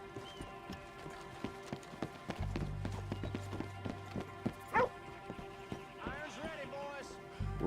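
Horse hooves clop in a video game, with a rhythmic series of light hoofbeats under game music and other effects while a person talks over them.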